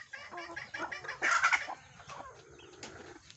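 Backyard chickens in a coop cluck and squawk close by, a burst of several short, overlapping calls with one louder excited squawk in the middle, heard alone without talk.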